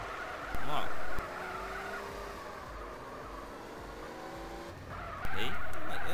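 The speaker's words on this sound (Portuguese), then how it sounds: "Realmente é um carro muito veloz." A very fast car in GTA San Andreas roars with engine noise and squealing, skidding tires, in bursts of loud screeching at the start and end around a sustained engine hum.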